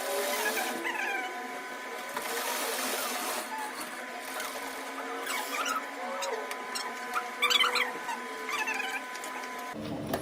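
A sewing machine stitches a curved seam on a sleeve cuff with a continuous rapid mechanical whir and rattle, fairly close and steady for about ten seconds before cutting off.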